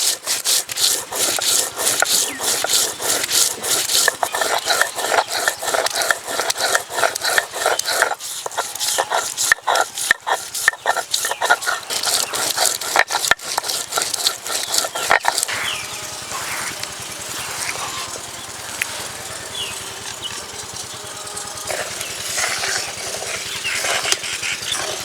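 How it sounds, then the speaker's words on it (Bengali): Spices such as whole coriander, cumin, ginger and chilli are ground into a paste on a stone, a rhythmic scraping and grinding rubbed back and forth close up, continuous and unaccompanied by talk. "ততক্ষণে মশলা বেটে নেব।"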